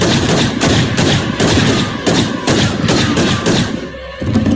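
Loud bursts of gunfire from a film, a rapid series of sharp repeated shots in several clusters, close and dominant, with no talk over them.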